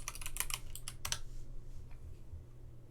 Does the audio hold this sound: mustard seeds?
no